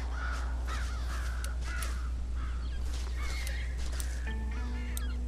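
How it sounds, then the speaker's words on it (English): Crows caw repeatedly in Red Dead Redemption, several harsh calls in irregular bursts at moderate distance over a constant low ambient drone, with a few other bird sounds mixed in. "We gotta deal with these birds or the crows or something."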